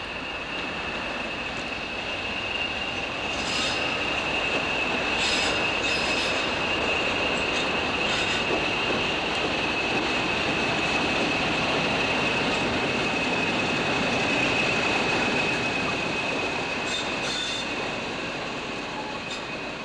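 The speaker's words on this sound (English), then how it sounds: "Arrives with Pullman stock bound for Scarborough on the 25th of June 1983." A Class 76 DC electric locomotive pulls in with a Pullman train bound for Scarborough. A steady, loud rumble of wheels on rails carries a sustained high squeal throughout, with no voices.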